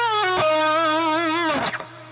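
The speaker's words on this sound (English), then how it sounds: "Okay, so that little bend pull off to 14 again sounds like this." An electric guitar plays a sustained bent note from a song's solo, wavering with vibrato before a quick pull-off down to a lower note, loud and close over a steady hum.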